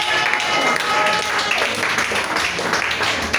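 A church congregation bursts into loud, sustained applause mixed with cheering and acclamation, a dense wash of clapping and raised voices filling the room throughout.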